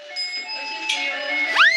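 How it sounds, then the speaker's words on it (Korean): A doorbell rings through a quiet home, a sustained chiming tone with a brighter second strike partway through, ending in a sharp rising sweep, moderately loud and close. "잠시 후 평안한 분위기를 깨는 초인종 소리"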